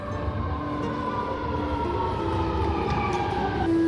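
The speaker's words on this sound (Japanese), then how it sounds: "列車が来ました。" A newly opened driverless Riyadh Metro train running above ground through desert near the airport pulls into a station, its steady rumble carrying rising and falling electric whines and a sustained high tone, with no talk.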